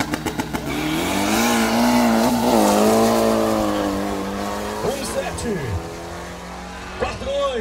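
A Volkswagen Beetle (Fusca) drag racing car screams through its run at a drag strip event in Paço do Lumiar, Maranhão, engine pitch climbing and shifting, with an announcer talking loudly over it throughout.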